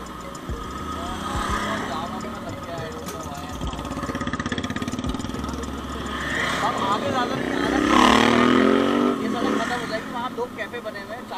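Motorcycle and car engines idle and rev in a crowded traffic jam on a hill road, a steady close engine drone that swells toward the end while people talk over it.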